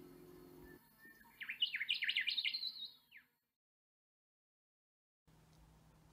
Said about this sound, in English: there's another returning spring bird, a rufous whistler.